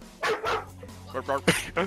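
Near a tabletop game session, a dog lets out a few quick, sharp barks and yips, close by, overlapping with people talking.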